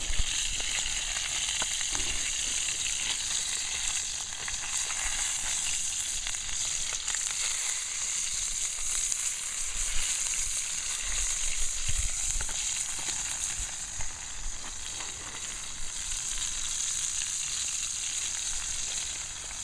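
Sausage frying in a pan over an outdoor campfire during a bushcraft breakfast, a steady close sizzle with light crackle and occasional pops, no voices.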